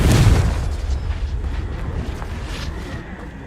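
A Confringo spell explodes in the Hogwarts Legacy video game: one loud, close boom at the start that rolls off into a long, fading rumble.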